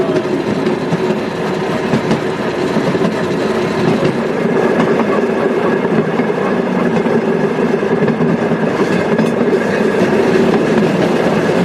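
A train on the Maine Central Railroad Calais Branch rumbles past close by, loud and continuous, with rolling wheel noise and faint rhythmic clatter on the tracks.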